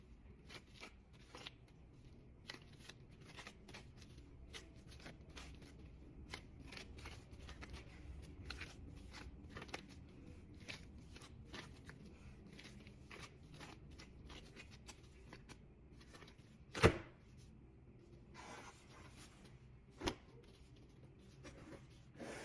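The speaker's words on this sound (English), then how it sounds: "Just gonna stretch, fold, stretch, fold." Sourdough loaf dough being stretched and folded by hand, giving a steady run of soft sticky slaps and rustles, with a sharper knock near the end and another just after.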